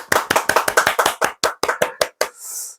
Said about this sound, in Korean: 자, 일단 박수를 칩니다.